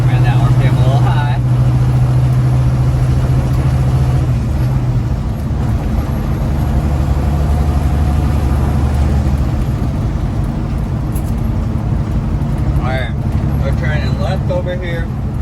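A big rig truck engine running while driving, with a steady low rumble and some drivetrain whine that stays loud throughout as a person talks over it.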